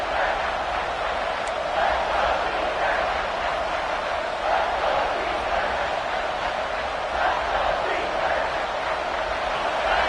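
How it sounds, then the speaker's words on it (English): A dense, steady crowd roar fills a large stadium in a college football video game, sustained and loud throughout with swelling surges, no clear voices standing out. "Listen to this crowd just shaking the girders of this place, trying to help their defense."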